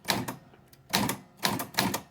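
Keys clack in short bursts on an old flea market typewriter with a few sticky keys, four quick clusters of sharp strikes with brief pauses between, close and fairly loud.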